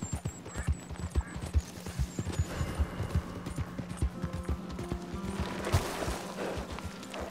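Horse hooves clip-clopping at a steady gallop in Red Dead Redemption 2, close and rhythmic across the whole stretch, with a low hum underneath and a brief faint whinny.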